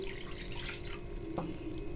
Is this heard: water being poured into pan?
yes